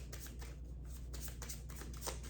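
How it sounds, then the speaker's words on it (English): Tarot cards are shuffled close up in a series of quick, papery riffles and slaps that come in uneven bursts, with no speech. "Sorry, I have to shuffle some more."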